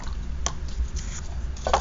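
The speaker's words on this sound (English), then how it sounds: "Gently stir it around, scrape it." A paintbrush is swished and scraped in a jar of rinse water, making soft wet squishes and a few quick tapping scrapes close by, with no talking.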